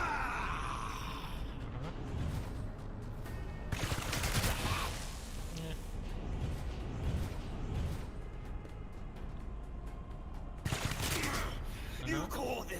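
Gunfire in the Rogue Trader video game: bursts of shots and impacts come in clusters over a steady bed of battle noise, with voices mixed under the fire.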